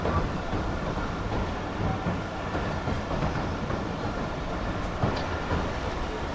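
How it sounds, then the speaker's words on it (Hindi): Karakoram Express passenger train with old coaches rolling at a restricted 45 km/h caution speed over a newly built bridge, giving a steady, fairly loud broadband rumble with faint clickety-clack throughout and no voices. "जिस तरह से ट्रेन रेस्ट्रिक्टेड स्पीड को फॉलो करते हुए जा रही है"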